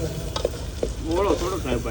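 Spices for tempering sizzle and crackle in hot oil in a home kitchen pan, a short bright hiss with a few sharp pops and stirring clatter, close and loud.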